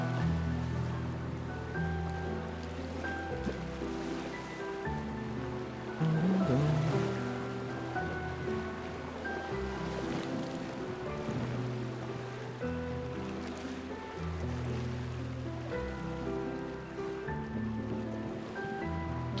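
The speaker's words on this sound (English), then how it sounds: "Why is the water so loud?" Loud water and ocean waves in the video game Clair Obscur: Expedition 33, a steady rushing wash of surf that holds through the whole stretch, blended with game music and with no talk.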